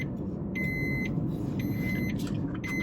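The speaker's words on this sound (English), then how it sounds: "Yeah, it's the seatbelt warning." A 2020 Maruti Suzuki Swift ZXI AMT's seatbelt warning chime beeps in steady, evenly spaced tones for an unbelted passenger, over a constant low road and engine rumble.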